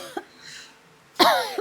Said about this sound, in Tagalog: Si nanay, ubo na ubo.